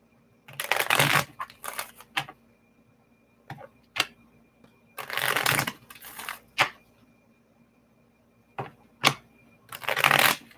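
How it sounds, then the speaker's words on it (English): Tarot cards being shuffled in repeated riffling bursts, close and fairly loud, separated by brief quiet pauses and a few light taps, with no talking over them. "Let me just shuffle these cards a little bit."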